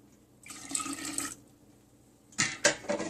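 Room-temperature brewed tea being poured for homemade organic kombucha, arriving as two separate liquid pours, a longer steady splash and then a shorter burst of trickling and sloshing, close and fairly quiet with no talk.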